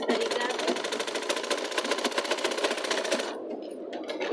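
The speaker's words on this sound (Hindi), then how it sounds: "ऐसे सिलाई लगा रही हूँ" A sewing machine runs steadily while stitching a blouse, giving a fast, even mechanical chatter up close for about three seconds before stopping, after which a low residual hum remains.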